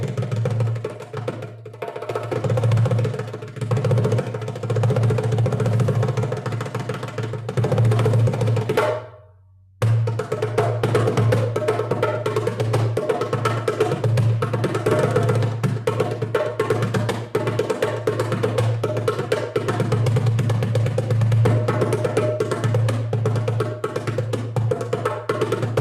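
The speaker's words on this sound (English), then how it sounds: "This is the sound of the djembe." A djembe drum played in a live world percussion presentation, with steady hand strikes over a dense, continuous rhythmic backing that drops out briefly near the middle before resuming at full level.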